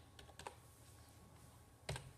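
A few quiet keystrokes tap on a computer keyboard as answer options are typed: two quick clicks near the start, then a pause and one sharper key press, close and alone in a quiet room.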